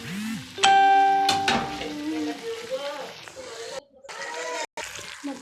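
A fish and pointed gourd curry is sautéed in a pan, giving a steady sizzle with scraping stirring strokes and brief pauses, while a voice speaks nearby.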